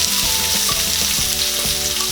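Chopped onion going into a frying pan of garlic already fried golden brown, for humba, giving a loud close sizzle with rhythmic scraping stirs of a utensil against the pan.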